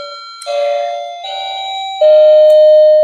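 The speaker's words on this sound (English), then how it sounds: "that's my doorbell" A doorbell rings indoors in a series of sustained electronic chime tones, clear and fairly loud, stepping between pitches across three seconds with no one talking.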